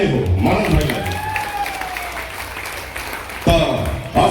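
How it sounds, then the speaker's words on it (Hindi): Loud crowd applause at an honoring ceremony held by a youth club for a jatra performer in Odisha, sustained clapping with cheering and a voice over a loudspeaker mixed in, swelling again near the end. "ले गोटे जोरदार ताली हो मानव भाई"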